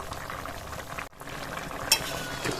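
Potol prawn curry with garam masala simmering in a light gravy, a steady close bubbling hiss with one brief clink near the end.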